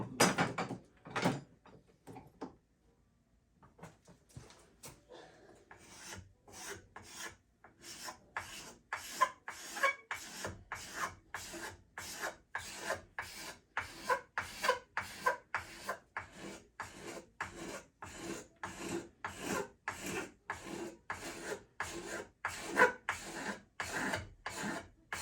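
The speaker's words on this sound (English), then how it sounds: "Now let me go to the scraper." Steady rhythmic rasping of a hand scraper drawn back and forth across a piece of wood, close and fairly quiet, with short strokes repeating quickly after a brief pause near the start.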